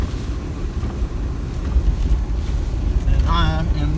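Strong Hurricane Florence wind buffets the microphone at Topsail Island and Surf City, North Carolina, as a steady loud roar with gusting rumble; a faint warbling tone rises near the end.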